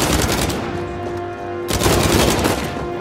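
Rapid automatic gunfire in Uncharted 4: A Thief's End, two dense bursts of loud, close shots separated by a short gap.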